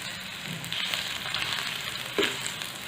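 Crushed garlic and green chilli fry gently in oil over a low gas flame for lasan ni chutney, a soft steady sizzle with faint crackles and a brief stir near the end.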